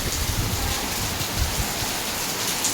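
A steady downpour falls throughout, an even rushing hiss with faint low thuds of drops mixed in, near and unbroken, with no speech.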